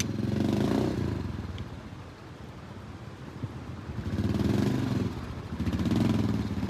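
A Smart Bullet motorcycle's engine rumbles steadily and close while the bike is hauled along a slippery stretch, swelling louder in surges at the start and again near the end.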